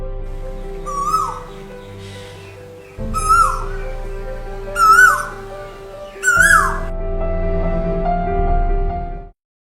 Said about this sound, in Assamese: কুলি কেতেকীৰ লগতে ভিন্ন প্ৰজাতিৰ চৰাই চিৰিকটিৰ মিঠা মাত